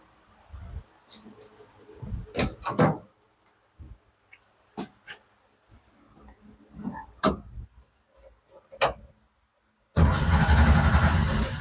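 The engine of a 1963 VW Bus turns over, preceded by scattered clicks and clunks, then catches into a loud, steady idle that runs on to the end.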